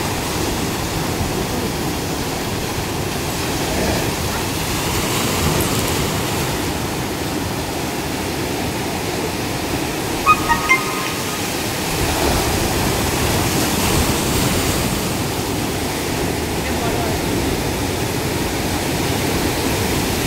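Strong sea waves at Mandarmani beach, a loud continuous surf roar with broad rushing water noise filling the whole stretch, no talk.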